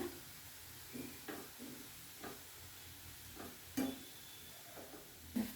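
Grated potatoes fry quietly in a pan, a faint steady sizzle broken by a few soft stirring scrapes and taps.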